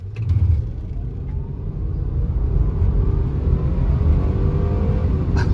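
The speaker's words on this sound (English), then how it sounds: "this transmission shifts good" A 2000 Honda Accord EX V6 with about a quarter million miles accelerates on a test drive, its engine rumbling steadily from inside the cabin as the automatic transmission moves through gears, with no talk.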